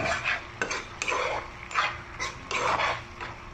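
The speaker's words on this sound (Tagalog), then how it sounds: "Halo-halo natin ganyan." A spoon scrapes and stirs through tomato sarciado sauce in a pan while lapu-lapu fish is being cooked, with repeated rhythmic strokes, close and clear, and no talking.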